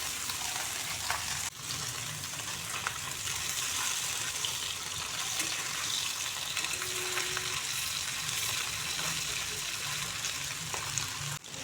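Small puti fish fry lightly in a pan with oil, giving a steady, even sizzle that runs throughout at moderate volume, with a few faint clicks from the pan.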